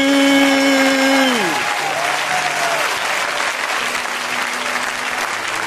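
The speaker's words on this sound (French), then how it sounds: "Acclame pour Jésus" A church congregation breaks into sustained applause after a prayer, a dense, loud wash of clapping throughout, with a sustained electronic tone that drops away early on.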